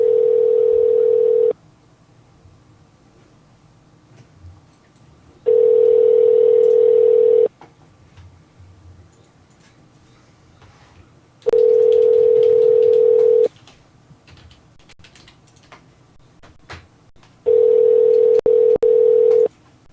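A telephone call goes out during a radio talk show: a steady dial-type tone sounds in four long, evenly spaced bursts of about two seconds each, separated by quiet gaps, clear and close with no talk.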